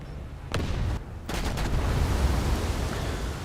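British heavy cruiser guns firing at enemy ships in a naval battle video game, a few sharp booming shots over a constant roar of engine and sea noise.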